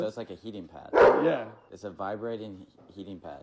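A black and white dog gives one loud bark close by while people keep talking over and around it.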